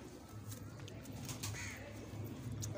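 Pigeons coo softly in a low, repeated murmur, with faint bird calls above, from a Karachi pigeon loft, steady and fairly quiet with no talk.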